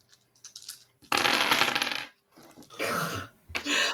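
A big pile of six-sided dice tumbles and clatters across a table, two loud rattling bursts of rolling dice, with a softer scattered clatter before and after.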